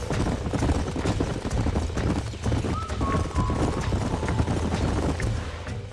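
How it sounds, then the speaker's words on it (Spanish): Horses gallop steadily in Red Dead Redemption, a dense, continuous drumming of hoofbeats with creaks and rattles throughout, a brief whinny in the middle, and faint voices mixed underneath. "These are fine horses."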